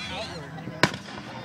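A single sharp firework burst at a county fair cracks out near the middle, brief and broadband, with crowd chatter and voices around it.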